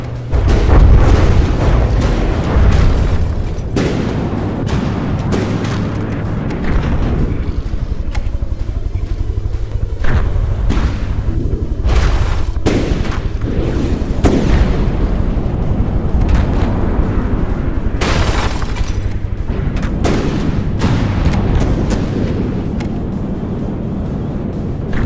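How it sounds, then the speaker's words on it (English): Torpedo strikes in a tank combat video game on the Ambush, Belgium, Hammerhead and Murky maps: a continuous barrage of heavy, close booms and rumbling blasts, repeated bursts stacking over engine drone for the whole stretch. "Torpedoes."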